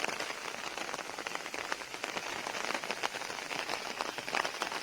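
Heavy rain falls steadily and densely, a continuous close wash of pattering drops on surfaces with no pauses and no voices.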